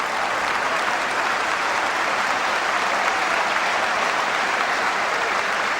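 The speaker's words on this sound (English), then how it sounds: "everyone's applauding the run by Frank Leboeuf" Large football stadium crowd at a 1997-98 Chelsea versus Southampton match applauds a run by Frank Leboeuf, a steady, dense roar of clapping that holds at full volume throughout without a break.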